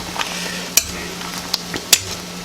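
Broccoli at a rolling boil in a pot on the stove, a steady low bubbling wash punctuated by a few sharp utensil clicks against the pot, with no talking.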